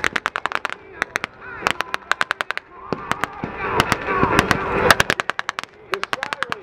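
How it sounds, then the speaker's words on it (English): Mortar attack captured in war footage: rapid loud cracks and bursts of fire in dense clusters, with rumbling explosions in between, sounding near and chaotic. "We had a mortar attack."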